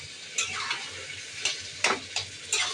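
Meat browns with spices in a pan for a Bengali curry alongside taro, a steady sizzle under several sharp scraping stirs of a spatula, close and moderately loud, with no talking.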